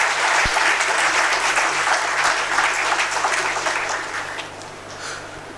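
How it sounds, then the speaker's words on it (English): Audience at an ICSI convocation ceremony gives a round of applause, a full hall of steady clapping that gradually thins and tapers toward the end. "a very good round of applause"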